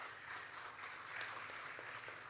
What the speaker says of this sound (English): please can we have a louder round of applause?